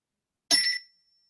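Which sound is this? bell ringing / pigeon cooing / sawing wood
bell ringing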